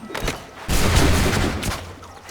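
A burst of gunfire from the video game Assassin's Creed 3 fills the scene with dense, overlapping shots, a few quick cracks followed by a louder, sustained volley that tapers off.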